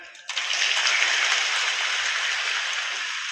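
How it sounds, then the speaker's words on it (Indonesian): An audience at a West Java provincial government gathering claps together in a dense, steady burst of applause that starts abruptly and holds at an even level for a few seconds. "Tepuk tangan."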